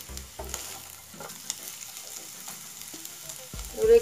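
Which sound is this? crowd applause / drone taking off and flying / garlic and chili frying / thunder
garlic and chili frying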